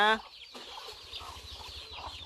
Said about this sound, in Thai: มันมีไก่น้อยด้วย